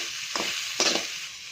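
Mature grated coconut dry-roasts in a pan for a roasted-coconut fish curry, a soft sizzle broken by two scraping stirs of a spatula, close and without voices.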